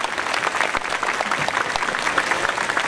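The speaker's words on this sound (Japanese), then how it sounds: "どうぞ皆さんタイの関係者の方の知事に対して拍手でお礼を申し上げて" An audience at a ceremony for the prefectural governor claps together in steady, dense applause, loud and sustained from start to finish.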